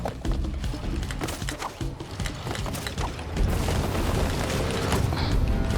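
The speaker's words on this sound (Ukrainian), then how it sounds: "Ай, там вибуху небезпека." A loud explosion booms out in the video game Crash Bandicoot 4: It's About Time, followed by sustained rumbling and mechanical clatter filling the scene.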